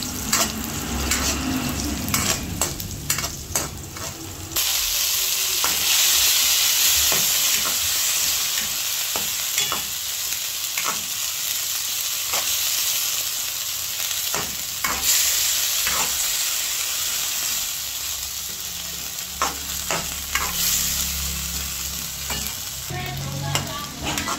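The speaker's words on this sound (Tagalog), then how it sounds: "ako po nagigisa na nung pong bawang at sibuyas" Garlic and onion sizzle steadily in hot oil in a pan for spaghetti sauce, with repeated scraping and stirring strokes from a spatula over a loud, continuous frying hiss.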